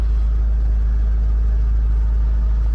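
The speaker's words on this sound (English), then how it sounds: "I don't know if you can hear the car" A 2018 VW Golf R Mk7.5 engine running steadily, a constant low rumbling drone heard from inside the car, with no speech.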